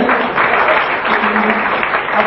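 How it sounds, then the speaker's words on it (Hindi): An audience at a Chhattisgarh cartoon event claps in steady, dense applause that holds at an even, fairly loud level from start to finish. "ताली है आप सबका"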